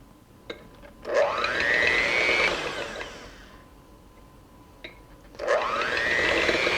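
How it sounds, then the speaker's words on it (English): An electric mixer whisking egg whites whirs in two bursts, each spinning up with a rising whine, running a couple of seconds, then stopping, with quiet gaps around them. "now it is time for us to whisk our egg whites"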